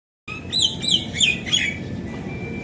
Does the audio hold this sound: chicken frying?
no